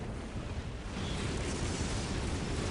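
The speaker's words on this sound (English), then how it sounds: "Huge explosions" Huge orbital bombardment explosions in the Dawn of War strategy video game, a dense rumbling roar of overlapping blasts that swells and holds loud without a break.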